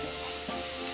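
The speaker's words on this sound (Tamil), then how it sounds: "வெங்காயம் நல்லா வதங்கிடுச்சு." Steady sizzling and frying of onions sautéing in a pan on the stove, with faint stirring scrapes, continuous and close with no voices.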